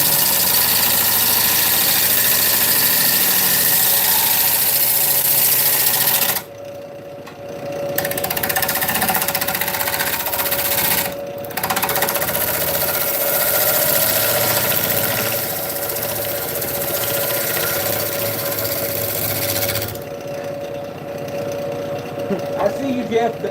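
A wood lathe spins a huge burl while a skew chisel cuts across it, giving a loud, continuous motor drone with rough rumbling that drops out briefly in a few spots, and someone talks over it.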